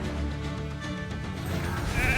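A sheep bleats in a video game: a short, close, wavering cry over busy game sounds.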